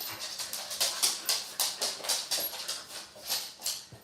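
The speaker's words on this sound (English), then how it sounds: "Too much dog noise." Dogs make a rapid, rhythmic series of soft, breathy whimpering or yapping bursts, about four each second, fairly close and moderately loud, with no talk.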